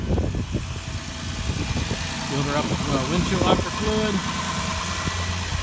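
A van with a fairly new muffler idles in a low, steady rumble that runs under a person talking close by.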